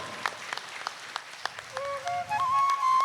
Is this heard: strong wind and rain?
no